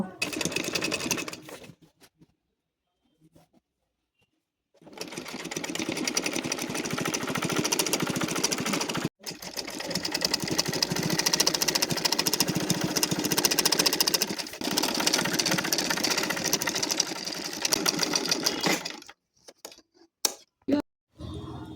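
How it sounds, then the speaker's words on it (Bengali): A sewing machine runs stitching the folded cloth edge of a lungi, whirring loudly in long continuous bursts separated by short pauses and quiet gaps, with a few brief stops and starts toward the end. "ভাঁজ করা কাপড়ের ধার দিয়ে আবার একটি সেলাই দিয়ে দেব"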